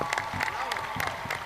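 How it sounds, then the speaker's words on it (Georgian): Audience applause at a children's dance performance, bursts of clapping and crowd noise rising and falling across the hall, with a voice talking over it. "აბა კიდევ ერთხელ აპლოდისმენტები გამაგონეთ"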